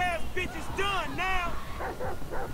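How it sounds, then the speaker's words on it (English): A dog in the video game GTA V barks and yelps in a quick run of sharp, rising calls, fairly loud against a steady game background. "Is that my dog?"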